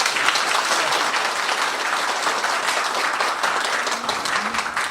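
Steady, full applause of encouragement from a seated audience at a county town hall talk concert in Samseong-myeon, Eumseong, continuing evenly without a break.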